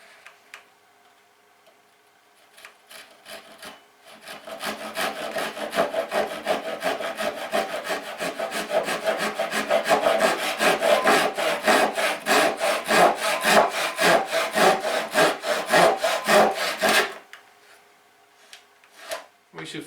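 Hand saw cutting through a piece of wood clamped to a workbench over a sacrificial base: a steady run of close, rhythmic rasping push-pull strokes lasting about thirteen seconds, with a few lighter strokes before and after.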